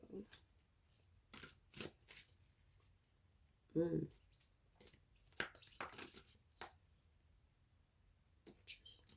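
Tarot cards being shuffled and drawn, soft quick riffles and taps at close range, quiet, interspersed with a person talking.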